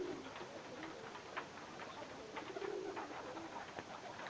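Faint pigeons, Bilasuvar tumbler pigeons perched on rooftops, coo in soft, scattered low calls against a steady outdoor hiss, distant and quiet with no voices.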